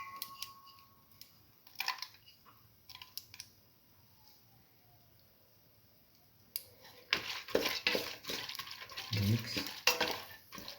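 Red lentils and bottle gourd stirred and sautéed in a pan, with scraping and clattering stirs in short bursts early on, then a busier stretch of continuous stirring and sizzling toward the end, close and moderately loud.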